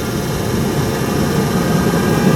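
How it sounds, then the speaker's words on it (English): Hydronic coolant heater in a camper van firing up its burner, a loud, steady roaring whoosh with low rumble, continuous and close throughout. "The burner unit will then fire up and start heating the coolant that's in the coolant"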